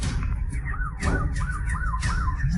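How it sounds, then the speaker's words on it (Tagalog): A wailing emergency siren sweeps up and down in a steady repeating cycle, heard at moderate distance over a heavy low rumble of background noise. "Tunog ng sirena yan."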